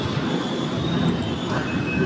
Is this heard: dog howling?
no